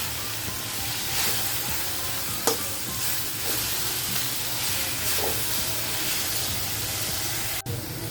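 Wild taklya greens cook in a pan with salt and turmeric, giving a steady, close hiss and sizzle with occasional stirring clicks and scrapes running throughout.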